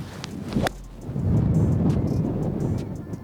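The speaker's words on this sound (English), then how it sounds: "That is just amazingly windy." Strong wind of about 40 miles per hour on a golf course buffets the microphone in heavy gusts with a rumbling roar, preceded by a brief sharp knock.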